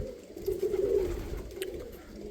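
A pigeon coos softly nearby, a low throaty rolling call, over a quiet background.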